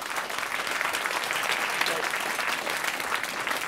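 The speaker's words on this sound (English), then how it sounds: "let's give him an applause" Audience applauding at a criminal justice reporting awards ceremony, a sustained even roar of many hands clapping together at moderate distance, with faint crowd murmur.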